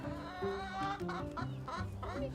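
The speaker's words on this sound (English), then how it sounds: "The chickens that we have at the Compost Learning Center are compost workers." Chickens cluck continuously in a compost hoop house at a learning center, several birds overlapping in a busy, close, steady chatter with no talk.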